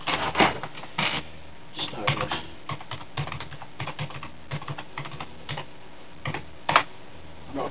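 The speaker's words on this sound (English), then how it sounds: "Very clackety keyboard." Clacky computer keyboard on a PC with an ATI Radeon video card, typed in quick irregular bursts of sharp, close key clicks with a few louder strikes and short pauses.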